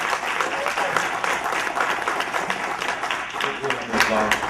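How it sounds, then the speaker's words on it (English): A crowd at a class event claps in a dense, sustained burst of applause, loud and continuous with scattered sharper claps near the end. "Let's give a round of applause for the man who put all this together."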